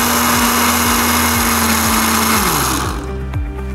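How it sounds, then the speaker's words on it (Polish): An electric blender blends a smooth orange superfood breakfast smoothie. The motor whirs loudly and steadily for nearly three seconds, then cuts out and winds down into quiet. "I teraz to wszystko blendujemy, miksujemy i trzymamy kciuki, żeby blender sobie poradził."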